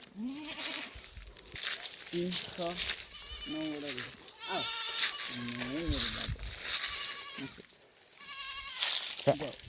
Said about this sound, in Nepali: कतिवटा छ यहाँ बाख्रा?